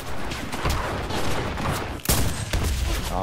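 Automatic machine gun fire in the World War II shooter Enlisted, a loud sustained burst of rapid shots with a sharper blast near the two-second mark and continued gunfire after.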